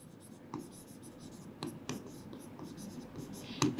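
During an economics lecture, a marker or chalk scratches across a board in short strokes and taps, quiet and intermittent, with a few sharper knocks near the end.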